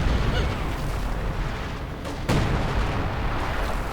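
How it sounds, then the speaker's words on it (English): Sector artillery barrage pounding infantry in a real-time strategy game, a dense rumbling wash of blasts with one sharp burst partway through, loud and continuous. "But another bout of sector artillery straight on the infantry."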